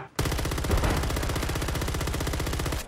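Sustained rapid automatic fire from a RAM-9 submachine gun (Tavor SAR) in Call of Duty: Modern Warfare, a loud, close, evenly spaced stream of shots lasting nearly three seconds without pause.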